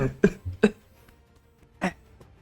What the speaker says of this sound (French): et je commence à tousser